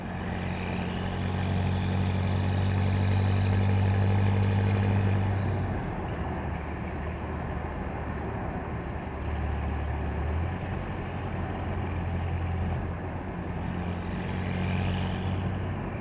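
A 2013 BMW M5 F10 with a 4.4 V10 cruises along B roads in heavy Friday traffic. A steady low engine hum and road drone are heard from inside the cabin, quiet and even, easing slightly after a few seconds.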